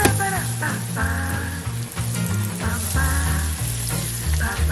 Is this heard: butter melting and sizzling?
yes